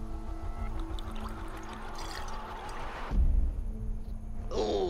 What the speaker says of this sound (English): Then rinse this off and we'll rub a little bit.